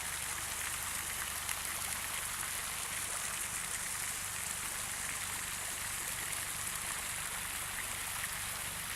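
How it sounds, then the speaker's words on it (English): Water spouts steadily from serpent-like fountain sculptures at Mission Bay in Auckland, New Zealand, a dense, even splashing hiss that runs without a break, close and fairly loud. "And of course they're always spouting water."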